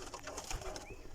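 Flying pigeons kept as breeding pairs coo softly and repeatedly, a low murmur under faint higher chirps and background noise in a loft.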